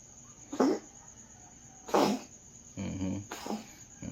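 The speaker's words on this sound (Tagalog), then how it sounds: "inuubo ang pusa" A cat coughs close by in three separate hacking bursts, each spaced a second or so apart, with quiet pauses between them.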